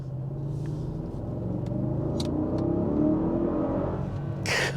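A 2024 Mercedes-AMG GLE 63 S with a small battery assist pulls hard under acceleration, a deep engine rumble climbing steadily in pitch from inside the cabin, with brief faint clicks.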